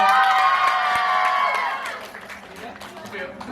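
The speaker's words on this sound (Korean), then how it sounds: "여러분 박수 부탁드릴게요." An audience at a first-birthday party cheers and applauds a wedding-style MC, a loud burst of crowd shouting and clapping that fades after about two seconds into lighter scattered claps and voices.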